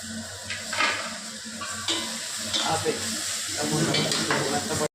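Tomatoes and green chili paste frying in a pan, a close, steady sizzle with bursts of hissing and the scrape of stirring, growing louder toward the end before stopping abruptly.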